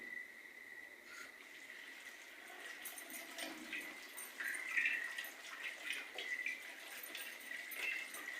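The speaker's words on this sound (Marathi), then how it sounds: "भाजी धुवून घेते आता। हाताने नाही धुवायची, नळाखाली असे" Tap water running steadily over freshly cut vegetables being rinsed, a faint continuous hissing stream with light splashes and small shifts as the vegetables are moved under it.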